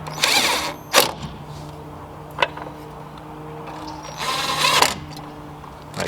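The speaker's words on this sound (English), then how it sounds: "slide it back into the housing the way you took it out and secure the 2 Phillips screws." Short whirring bursts of a cordless screwdriver drive two Phillips screws into a Mercedes W126 fog light housing, with faint clicks and handling noises between the runs.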